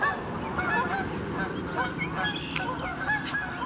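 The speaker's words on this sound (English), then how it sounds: "here they go, all the honkers" Geese honk repeatedly at a pond early in the morning, loud overlapping calls from a flock with steady outdoor background.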